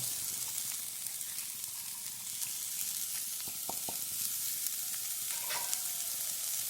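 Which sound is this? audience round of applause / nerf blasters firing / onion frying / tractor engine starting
onion frying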